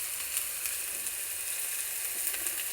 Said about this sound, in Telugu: అదిగోండి ఉల్లిపాయలు వేగుతున్నాయండి.